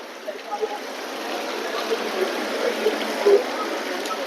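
Water flowing steadily in a fountain set among flowers in a mall food court, a constant soft rushing wash heard up close with faint background murmur.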